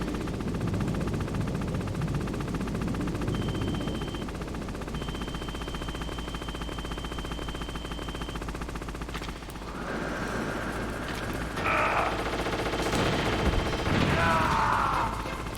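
Helicopter gunfire in Metal Gear Solid: a steady, loud, dense roar of rapid machine-gun fire and rotor noise runs throughout, with harsher bursts and game effects joining near the end.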